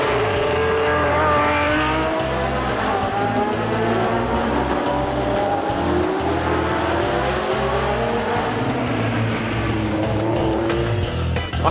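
Small 1.5 litre Grand Prix race cars at the Monaco chicane during the Historique, engines snarling loud and close with layered revving, gear changes and rising, falling pitch as cars pass in quick succession.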